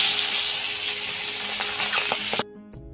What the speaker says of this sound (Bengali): তেল গরম হয়ে গেছে, তো আমি এখন মাছগুলো দিয়ে দিব একটা একটা করে।